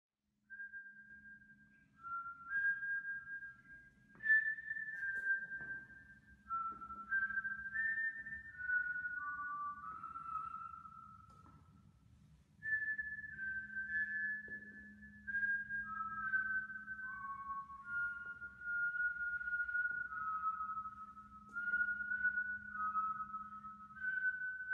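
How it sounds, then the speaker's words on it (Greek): Someone whistles the same melody at night outside a house, a series of faint distant phrases of rising and falling notes separated by brief pauses, with low background hum and no talk. "Το σφύριγμα έχει την ίδια μελωδία κάθε βράδυ."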